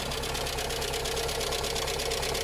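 An old Skoda-derived 1.4-litre car engine, unrelated to VW designs, runs steadily at idle with an even, close mechanical clatter and a low rumble, heard alone without voices.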